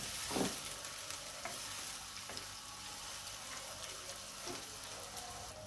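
Onion, garlic, ginger and green chilli frying in a pan for a Lahori-style fish curry masala, giving a steady, soft sizzle with faint scraping stirs throughout and no talking.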